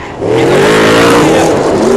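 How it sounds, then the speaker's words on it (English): Loud race car engines roar and rev close by on a dirt track, a continuous high-pitched snarl with shifting pitch as the cars slide sideways past. "Mowat getting all sideways down the front chute now."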